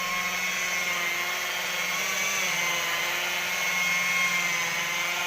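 A machine polisher buffing a wiper-scratched car windshield during the second finishing polish, a steady close whine with a constant motor drone and no pauses.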